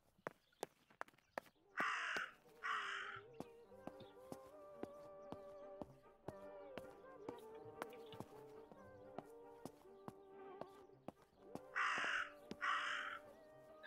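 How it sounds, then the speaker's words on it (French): Crows caw in the video game Martha Is Dead, with two pairs of loud, close, harsh calls set against a steady ambient drone, sharp clicks and clopping hoofbeat-like steps. "il y a le corbeau qu'on doit suivre aussi"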